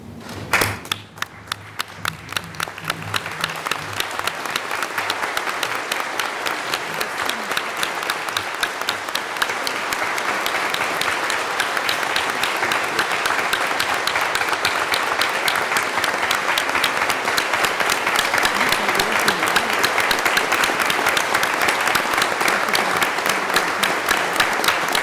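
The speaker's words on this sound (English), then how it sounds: "I ask all of the graduates to remain seated while the rest of us stand and applaud you once again." A standing audience at a graduation ceremony applauds the seated graduates: loud, sustained clapping with a steady rhythmic pulse throughout, filling the hall for over twenty seconds after a brief opening thump.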